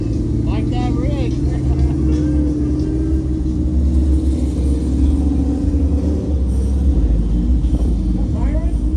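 A Suzuki Samurai 4x4 on 40-inch tires rolls past a campsite with a steady, deep engine rumble. Nearby voices talk over it.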